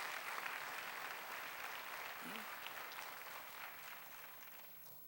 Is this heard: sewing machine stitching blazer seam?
no